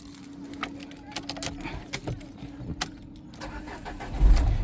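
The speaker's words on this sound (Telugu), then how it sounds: "సింగిల్ సెల్ఫ్లో కార్ స్టార్ట్ అవుతుంది ఎటువంటి స్టార్టింగ్ ట్రబుల్ అయితే లేదు" A 2015 Renault Lodgy RXZ car engine cranks and fires on a single turn of the key, the starter whirring briefly before the engine catches and settles into a steady idle near the microphone.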